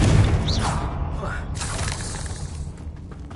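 Confringo fire spell blast in Hogwarts Legacy on PS5, a loud booming explosion with a shattering crack at the start, followed by a sizzling whoosh and fading rumble of debris.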